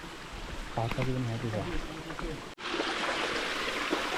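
Spring-fed stream water flows in a steady, soft rushing wash throughout, while a person speaks briefly over it near the start.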